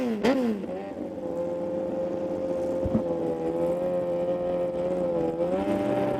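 Two drag-racing motorcycles, a Two Beards Racing Kawasaki and a Suzuki upright street bike, at a Pro Alcohol Nationals meet at Willowbank Raceway; a steady loud engine drone holds throughout, with a brief rev change near the start.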